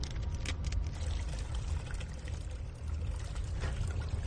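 Liquid pouring into a chemistry pot in the Amnesia video game, a continuous splashing, trickling pour lasting several seconds at moderate loudness with no talking over it.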